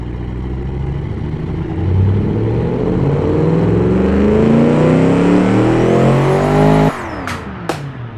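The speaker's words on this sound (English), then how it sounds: "I do love that you can hear that turbo spooling up towards the top of that curve there" A 700-horsepower turbocharged car engine in a video game revs upward in rising pitch, turbo spooling toward the top, building to a roar before abruptly cutting off, followed by a couple of sharp clicks.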